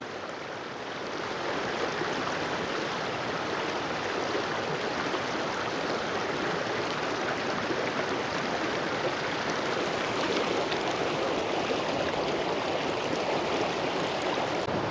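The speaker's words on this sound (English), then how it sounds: "This creek is gorgeous." A creek near Big Bear Lake, California, flows in a steady, dense rush of water, close and fairly loud, continuous throughout with no talk.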